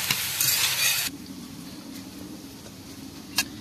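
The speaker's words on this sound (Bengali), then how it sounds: "পেঁয়াজটাকে খুব ভালো করে ভেজে নেব" Onions sizzle and hiss in a hot pan as they fry until lightly browned, loud at first while being stirred, then settling into a steady, quieter frying crackle with a brief clink.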